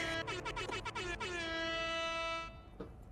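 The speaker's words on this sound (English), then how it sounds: "air horn." A blaring air horn sound effect sounds as one long sustained honk with a few stuttering blasts at the start, loud and close, ending abruptly with a faint blip after.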